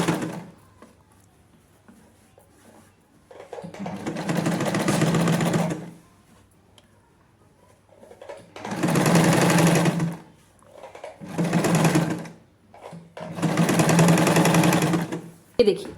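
A sewing machine stitches a zip into a trouser, running in four loud close bursts of rapid mechanical whirring separated by quiet pauses.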